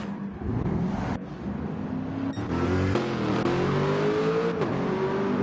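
Race car in Gran Turismo 4 on the Nordschleife pulling out of the pits, its engine revving up with a steadily rising whine, loud and close, running continuously without any talk.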